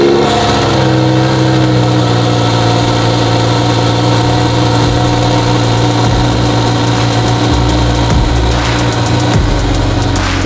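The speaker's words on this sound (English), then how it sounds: "We're gonna put some heat in this engine, fire it up, get that supercharger going" A supercharged V10 Lamborghini Huracan Evo Spyder engine starts and rumbles steadily with a deep, sustained drone, rising into revs now and then, close by and without talk.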